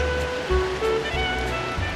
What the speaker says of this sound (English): And the river is really ripping into it down here.